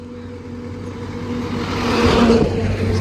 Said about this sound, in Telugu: బైక్ బైక్ అట్నుంచి వెళ్ళిపోయింది